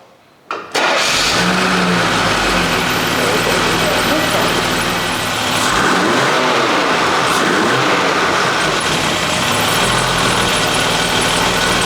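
A car engine cranks briefly, catches and settles into a loud, steady idle with slight rough fluctuations while cold, heard up close after a quiet moment.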